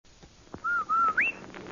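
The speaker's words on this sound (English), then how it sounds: "Hey, Andy, did you hear that whistle?" A single clear whistle, heard alone and fairly loud: a steady tone that breaks briefly, returns, then slides sharply upward at the end.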